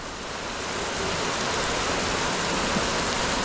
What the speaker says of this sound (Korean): 비가 와도 좋네